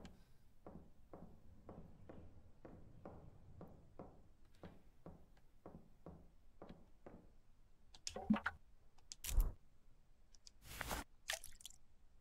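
Video game Mortuary Assistant: tank cleaner is poured into an embalming pump as a run of soft, evenly spaced wet squishing pulses, followed by a few louder sharp knocks and thuds near the end.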